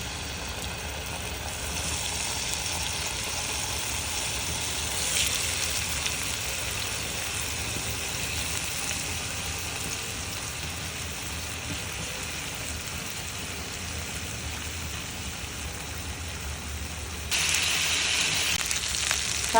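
Chicken pieces frying in mustard oil in a pan, a steady close sizzle with a constant bright hiss that swells louder near the end, with no talk.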